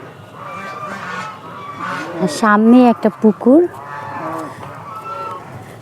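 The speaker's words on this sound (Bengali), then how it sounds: "কত রাজহাঁস" Geese at a village pond let out a burst of several loud, nasal honks in quick succession, with people talking nearby before and after the calls.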